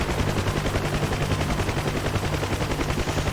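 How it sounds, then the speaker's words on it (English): A Huey helicopter's machine gun fires at ground troops in a combat video game: a loud, continuous stream of rapid, evenly spaced shots that persists without pause. "I was diving towards some troops, and I think they saw me shooting at them."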